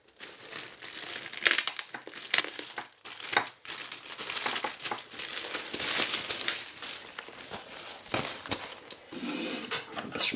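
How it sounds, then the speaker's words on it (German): A pair of sunglasses from a limited LED fanbox is packed back into its wrapping, producing close, steady crinkling and rustling of packaging with sharper crackles throughout. "Das werde ich dann vorsichtig wieder einpacken."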